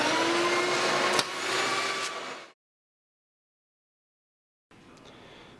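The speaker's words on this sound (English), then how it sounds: "You need to vacuum the bed." A vacuum cleans the bed of an Inventables X-Carve CNC machine with a loud, steady whine and rush for about two and a half seconds. It then cuts to silence, and a quieter noise returns near the end.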